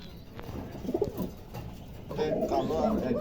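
High-quality pigeons, including blue bar birds, in a wholesale pigeon sale setting, cooing softly in low rolling calls that swell toward the end, with someone speaking faintly nearby.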